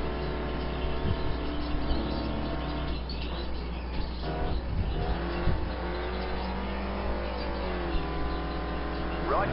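A damaged sport touring race car drives at Infineon with a loud, steady engine drone that holds from start to finish, shifting in pitch over time and carrying no voices.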